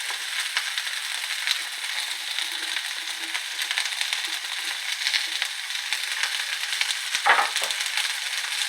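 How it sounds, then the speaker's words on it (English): Onions, green pepper and rosemary frying in olive oil in a pan, a steady soft sizzle with faint stirring scrapes and a brief clatter near the end. "I'm just going to go in with my onions and my green pepper, along with the rosemary. Just get all that in the pan."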